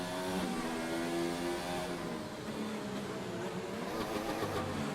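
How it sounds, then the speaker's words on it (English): A Mercedes Formula 1 car in a PS4 racing game at the Baku circuit revs hard, a continuous, loud engine drone with shifting pitch running the whole time without a break. "revving the absolute guts out of the Mercedes there"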